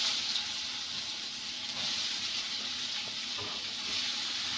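Bottle gourd pieces drop into hot oil already sizzling with bay leaves and cumin, giving a steady, close frying hiss that holds evenly throughout with no talk.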